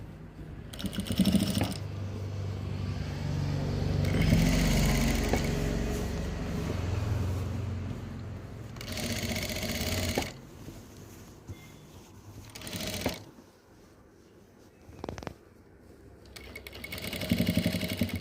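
Domestic sewing machine stitching a V-neck kurti, its motor running in steady bursts that stop and restart, close and fairly loud with no talking.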